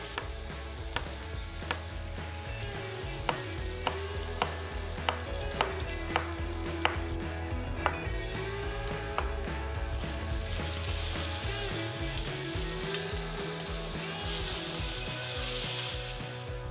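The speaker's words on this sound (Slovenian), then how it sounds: "Solimo, da se čebula hitreje razpusti. In med tem, ko se čebula praži" Salted onion frying in a pan for potato goulash with Carniolan sausage sizzles softly and steadily, with regular clicking taps from stirring or cutting, and the frying grows louder and brighter toward the end.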